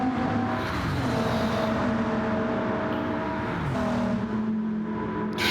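A pack of race cars in Gran Turismo 7 at Le Mans roars by in the slipstream, steady engine drone with shifting pitches as cars close in and pass, loud and continuous with no talk.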